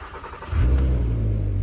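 A VW Golf R32 engine fires up: a short starter crank, then a sudden low rumble that settles into a smooth, steady idle close by.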